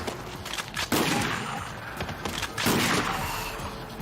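Anime gunfire: a gun cracks out in two loud bursts of shots about two seconds apart, each followed by a ringing noisy tail, with no speech over them.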